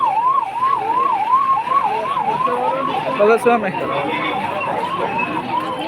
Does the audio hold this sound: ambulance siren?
yes